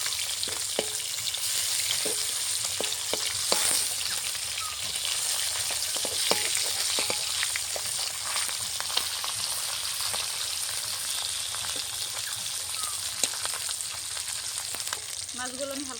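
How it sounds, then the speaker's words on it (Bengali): Hilsa fish frying lightly in oil in a pan, a continuous close sizzle with bright crackling and scattered sharp pops throughout, steady and unbroken with no talk. "মাছগুলো আমি হালকা করে ভেজে নিচ্ছি"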